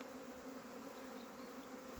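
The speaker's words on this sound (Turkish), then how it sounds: "Çok fazla arı var." A swarm of honey bees during swarm collection, a dense continuous buzzing hum that is close and steady throughout, with no voices.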